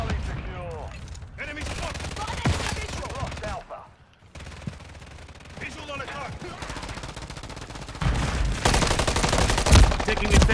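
Dense Call of Duty gunfire with rapid automatic bursts and single shots, loud and continuous apart from a brief lull midway, with players shouting over the shooting.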